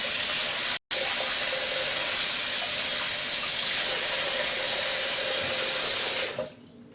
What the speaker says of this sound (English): I'm going to go ahead and rinse off